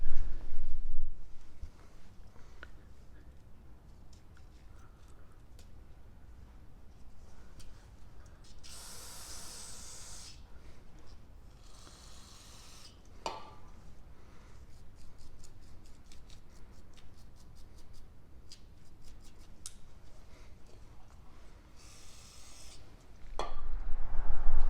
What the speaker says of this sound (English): I'm going to go ahead and clean them both up with brake fluid and then just a wire brush